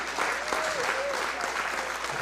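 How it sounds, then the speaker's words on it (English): Applause fills a city council meeting chamber, a steady moderate clapping from the crowd, with a voice faintly present over part of it. "And that deserves a lot of applause"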